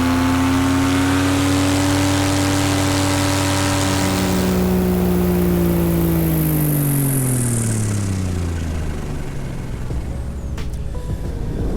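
A small aircraft motor drives a climb above the clouds, its engine tone loud and steady before the pitch slides downward as the power is cut, leaving a fading whine and rushing wind.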